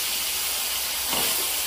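Shrimp (kolambi) fry in hot oil, a loud, steady broadband hiss close up with a brief surge of sizzle near the end.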